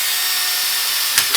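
A power drill with a 3.5mm bit bores into an old plastic gear from a BMW throttle actuator, a steady high-pitched whine close by, with a brief knock near the end.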